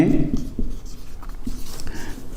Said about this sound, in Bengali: তাহলে আমি একটু এই সাইডে লিখি